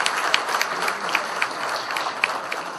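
Dense applause from a large crowd, steady and continuous, with individual sharp claps standing out throughout.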